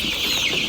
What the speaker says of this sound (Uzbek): Bu 22 kunlik tayyor holatda sotuvga chiqayotgan Andijon qora jo'jalari